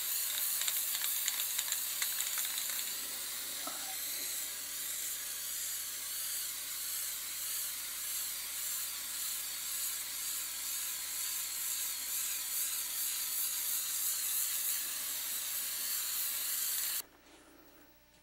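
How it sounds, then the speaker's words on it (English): A can of spray paint coats poster board gray, making a continuous close hiss that runs steadily for about seventeen seconds before cutting off abruptly into near quiet. "And what I do is spray paint it gray, and that way it'll look like the windows inside are gray."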